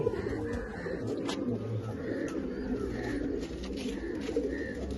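Male pigeons coo in soft, repeated low calls close by, layered over a steady background hum.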